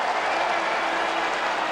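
Rugby stadium crowd roaring and applauding after a Hurricanes try at a 2003 Super 12 match against the Crusaders; a loud, dense, sustained wash of cheering and clapping with no break.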